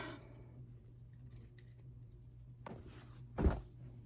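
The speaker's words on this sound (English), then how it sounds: "cut my strings" Scissors snipping quilting thread on a patchwork flag quilt top, a single crisp close snip near the end after a quiet stretch with faint handling noise.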